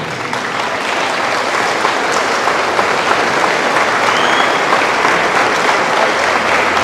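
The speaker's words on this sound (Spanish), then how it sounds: "estos aplausos para ti que nos ha dado la oportunidad de compartir tu palabra" Loud, steady applause from a congregation at a Spanish-language religious gathering, a dense, even roar of many hands clapping that continues unbroken throughout.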